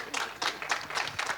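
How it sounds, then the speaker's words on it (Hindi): Audience applause at a film trailer launch event, a short burst of clapping from a crowd with bright, dense claps in uneven waves over about a second and a half, fairly close and moderately loud. "एक बार इनके लिए जोरदार तालियां हो जाए।"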